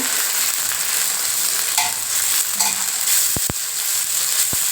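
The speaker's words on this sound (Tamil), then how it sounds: "இப்போ இந்த அரைச்ச பேஸ்ட்டு இதில் போட்டுக்கலாம் போட்டு அதையும் நல்லா மிக்ஸ் பண்ணிக்கோங்க" Ground roasted masala paste fries with sautéed onions for a fish-head and raw mango curry, giving a loud, constant close-up sizzle with a few soft stirring scrapes and a couple of sharp utensil clicks near the end.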